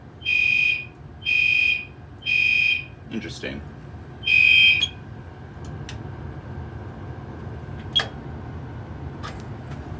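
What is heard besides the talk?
fire alarm sounding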